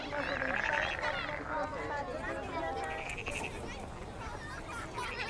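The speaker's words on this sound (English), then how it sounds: "this high-rise version is teeming with frogs that were brought here in the soil." Frogs croak and chirp densely in a rice paddy on a high-rise rooftop in Tokyo, a steady close chorus with overlapping calls and no talking.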